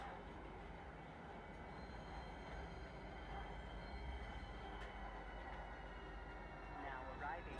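Train pulling into Central Station in Star Citizen, a steady low rumble of wheels and carriages with faint squeals near the end. A voice speaks over it.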